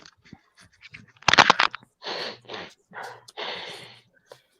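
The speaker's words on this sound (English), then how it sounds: "I just got a sniffle." A person sniffles close up, a quick run of sharp nasal sniffs and snorty breaths in short separate bursts with quiet gaps between them.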